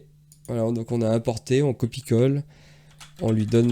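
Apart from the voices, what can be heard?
computer keyboard typing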